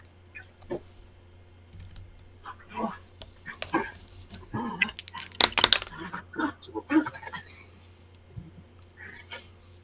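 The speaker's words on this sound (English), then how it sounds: "My dogs are also fighting." Dogs scuffle and fight indoors, with scattered yelps, barks and whimpers breaking out in a noisy burst midway while people talk and a keyboard clicks nearby.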